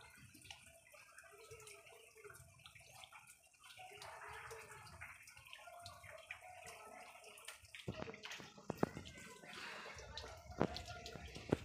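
Water runs from a pipe onto someone being bathed, a soft steady splashing stream at low volume with scattered drips and sharper spatters toward the end.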